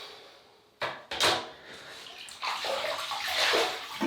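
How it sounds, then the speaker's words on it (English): Water splashes and runs as a face is wetted by hand before shaving with a Merkur 42c razor, in brief close bursts of splashing followed by a steadier rush of running water. "So we'll wet the face."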